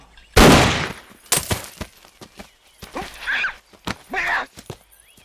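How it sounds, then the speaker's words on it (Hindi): One loud, sharp gunshot crack near the start during target practice, followed by scattered clicks and brief noises. "अब गोली चला दो।"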